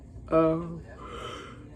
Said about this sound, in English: I don't know why I'm always yawning when I'm not tired.